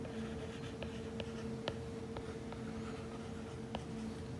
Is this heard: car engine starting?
no